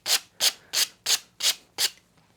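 Sandpaper on a sanding block rubbing a cross-country ski base, six even back-and-forth strokes about half a second apart, close and crisp with a papery hiss.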